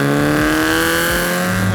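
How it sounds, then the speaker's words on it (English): A modified Mazda Miata with aftermarket headers and exhaust revs hard nearby, a loud raspy engine note holding steady with its pitch rising and dipping through quick throttle blips, no talk over it. "The headers on this make this car sound really good."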